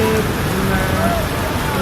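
Steady rain hiss in Dhaka fills the background, with a low rumble and faint tonal hum running underneath throughout.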